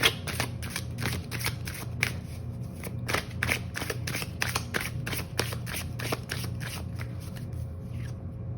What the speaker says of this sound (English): We're going to pull an oracle card as well.